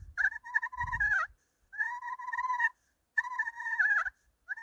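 Soft turkey purrs drawn on the slate surface of an HS Strut Cookie Cutter pot call, three separate rolling, trilling calls with short pauses between them, close and fairly quiet.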